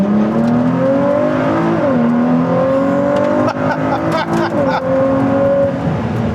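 Sports car in sport mode accelerating hard, a loud engine revving up through rising pitch, dropping briefly at gear changes, with a steady close roar throughout and no talking.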